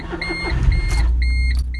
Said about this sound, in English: Let's listen to this tractor-like motor start.